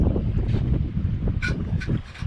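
Strong wind of about 15 knots gusts over a boat moored on the Guadiana river, buffeting the microphone in rough low rumbles with brief hissing bursts, no talking.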